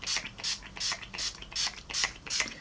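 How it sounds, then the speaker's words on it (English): Urban Decay All Nighter setting spray misted from a pump bottle in about seven quick, evenly spaced hissing bursts, close and fairly soft, with no talking. "To finish it all off, I'm going to go in with my Urban Decay All Nighter setting spray."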